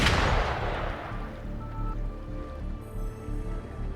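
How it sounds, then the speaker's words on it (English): Gunfire in the video game Wuthering Waves, a heavy blast at the start that fades into a rumbling echo, followed by a low sustained drone and faint distant pops, with no talking. "Gunfire! We've got intruders."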